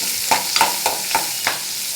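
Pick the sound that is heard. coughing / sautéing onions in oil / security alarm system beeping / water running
sautéing onions in oil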